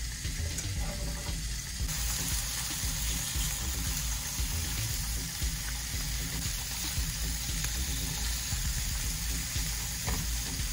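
Hot dogs sizzle steadily in a hot pan, a loud, continuous frying hiss close by that runs unbroken throughout, with faint clinks and shifting noises mixed in.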